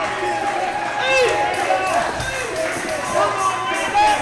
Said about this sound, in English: And the crowd coming alive once again for Shine